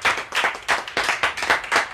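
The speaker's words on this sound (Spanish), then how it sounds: "Den un fuerte aplauso al Señor" A congregation clapping steadily in a fast, even rhythm during a church gathering, a close, lively run of hand claps with no talking.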